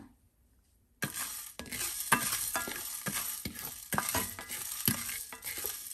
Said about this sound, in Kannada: ಆಮೇಲೆ ಚಕ್ಕೆ, ಲವಂಗ, ಸೊ ಇದೆಲ್ಲ ಒಟ್ಟಿಗೆ ಹಾಕ್ಕೊಂಡು ಹುರ್ಕೊಳ್ಳೋಣ